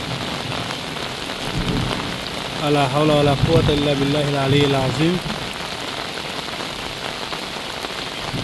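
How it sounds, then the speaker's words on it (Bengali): Heavy monsoon rain pours steadily on a village, a dense, constant hiss throughout, while a voice briefly recites a prayer over it midway. "বৃষ্টি হচ্ছে কিন্তু প্রচণ্ড"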